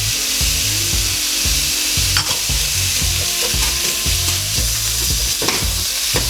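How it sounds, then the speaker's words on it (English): Lean ground beef sizzles and fries with spices in a single pot for a Tex-Mex enchilada casserole, a loud, constant crackling hiss broken by repeated scraping stirs. "now I'm gonna start with the ground beef"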